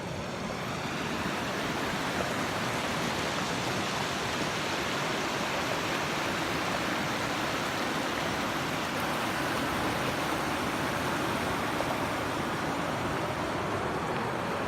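A river runs in a steady, broadband rushing flow on a warm sunny day, swollen with snowmelt, with no pauses or variation over its length.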